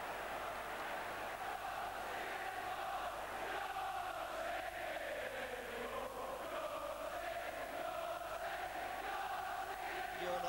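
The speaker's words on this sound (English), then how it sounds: "And that has got the crowd going." A football crowd at Highbury during a 1988/89 Arsenal versus Aston Villa league match roars and chants in a sustained, distant wash of voices, steady and unbroken throughout.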